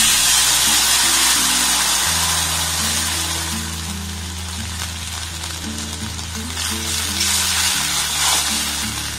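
Cashew and poppy seed paste frying in a pan over low gas flame, a steady close hissing sizzle with faint stirring clinks throughout and no talk.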